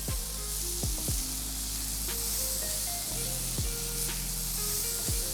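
Butter, garlic and mushrooms sizzle steadily in a pan as they are stirred, a constant close frying hiss with a few sharp scraping strokes, while tonal notes ring over it throughout.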